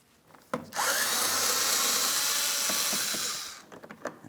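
A power tool or ratchet whirs steadily for about three seconds, loud and close, while removing a 5.5mm fender-liner mounting bolt on a 2007-2014 Ford Edge, with a few clicks and handling knocks before and after.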